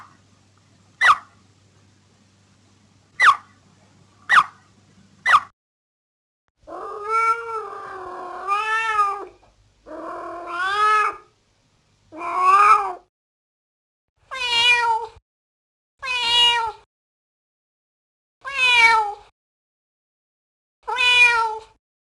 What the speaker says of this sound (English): and even hear the greeting sounds some cats make